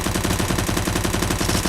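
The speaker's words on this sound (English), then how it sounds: "getting the kill with the ump rather. Took every last bullet there." Rapid, continuous automatic gunfire from a UMP submachine gun in Counter-Strike, a dense unbroken burst of shots that runs the full length, loud and close with no talking.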